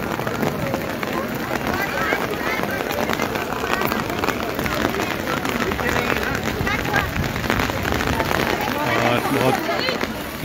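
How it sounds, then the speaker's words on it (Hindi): Heavy rain falls over Shimla as a dense, even hiss of drops that holds loud and constant throughout, with a faint voice at times beneath it. "जोरदार बारिश अब जो है वो धीरे धीरे शुरू हो रही है।"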